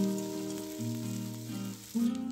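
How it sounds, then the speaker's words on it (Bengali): Onion, ginger and garlic paste frying in a pan as it is stirred, with a steady close sizzle over a continuous tonal background. "এবার আমি এখানে দিয়ে দিলাম পেঁয়াজ আদা এবং রসুন বাটা ভালো করে নাড়িয়ে নিচ্ছি"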